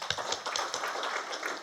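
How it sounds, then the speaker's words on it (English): A panel session audience gives a short burst of fairly faint applause for the panelists, with scattered hand claps and no talking. "So 1 round of applause for them."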